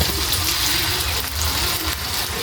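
Water pours steadily into a pan of sautéed sardines with tomato and malunggay, making a broth with a loud, continuous splashing rush up close and no talking.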